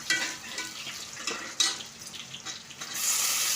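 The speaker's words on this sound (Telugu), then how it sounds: "కరివేపాకు వేసి పచ్చిమిరపకాయలు వేగించాలి." Curry leaves and green chilies frying in hot oil in a pan, a steady crackling sizzle with sharper spits and pops scattered through, close and fairly quiet, no voices.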